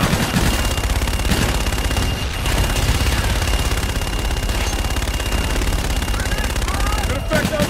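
Fire support shots in Call of Duty Infinite Warfare, a dense continuous barrage of rapid gunfire and explosions with radio-style voices talking over it throughout.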